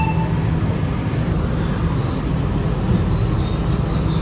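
A passenger train rumbles steadily close by at an Indonesian station, its wheels letting out a thin, sustained squeal over the continuous roar of rolling carriages.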